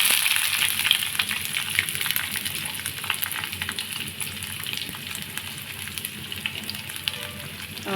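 Onions frying in a pan for an ivy gourd chutney, giving a continuous bright hiss and sizzle at moderate level with faint crackles and no talk.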